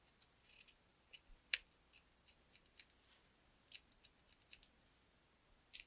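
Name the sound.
scissors trimming yarn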